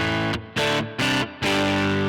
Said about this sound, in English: you'll see that we're introducing distortion artifacts, even at super low volumes